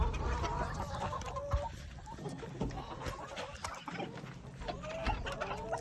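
Backyard chickens cluck and chatter continuously close by while feeding, with scattered louder clucks and some scratching and rustling, and no talk.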